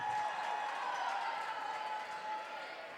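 Basketball crowd at a Union vs Lee women's game, a steady wash of cheering and applause from a large hall, fairly distant, slowly fading toward the end.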